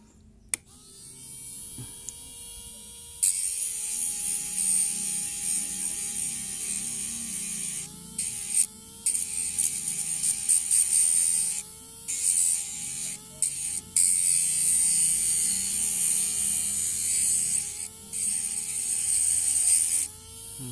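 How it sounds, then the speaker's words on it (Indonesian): A small rotary grinder works on cracked watch glass, with water added as coolant. It gives a loud, steady high-pitched whine that cuts out briefly several times, then restarts. "Kita bisa menggerinda ini, kita juga bisa menambahkan air ini sebagai pendingin"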